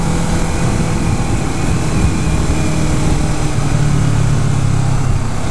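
A 2011 Kawasaki Ninja 650 parallel-twin on a test ride, its engine droning steadily and loudly at a fairly constant pitch, mixed with heavy wind rush, with no talking.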